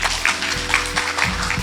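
An audience at a residents' briefing on a trust-led apartment redevelopment claps together in brisk, fairly regular bursts, close and moderately loud for a short stretch.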